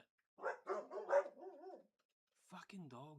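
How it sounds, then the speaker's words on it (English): Several dogs bark in a quick burst of yaps and woofs, then bark again after a short pause, fairly close and loud with no talk over them. "fucking dogs, man"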